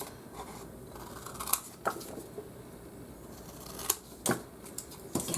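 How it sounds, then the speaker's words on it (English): Scissors trimming excess paper off a folded greeting card, a few quiet, brief snips scattered among soft paper rustling, close up with no talking. "I'm going to flip it over and then just cut off the extra."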